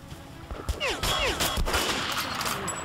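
A short burst of gunfire in Metro: Last Light sounds as a few sharp shots close together, with some whooshing noise in between and a brief voice nearby.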